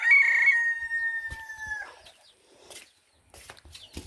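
A rooster crows loud and close in one long drawn-out call, then scattered clucks and a few wing flaps follow from nearby chickens, with quiet gaps between.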